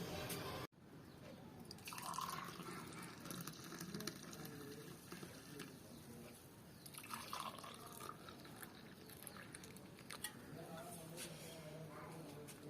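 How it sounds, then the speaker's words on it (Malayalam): Hot masala tea brewed with cardamom and ginger is poured into a glass, giving a soft, close trickle and liquid drips, faint and low, with a voice faintly present. "നമുക്കിത് ഗ്ലാസ് ഒഴിക്കാട്ടോ."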